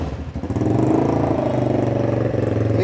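Chopper-style cruiser motorcycle fitted with an aftermarket exhaust cranks and fires up, settling into a loud, close, throbbing idle with a steady rhythmic pulse and no talk over it.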